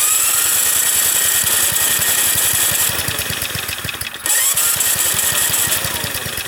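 A 1965 Ariens snowblower engine cranks and sputters as it tries to start, a fast, steady pulsing chug that is loud and close, with a brief dip near the end before the rhythm picks up again.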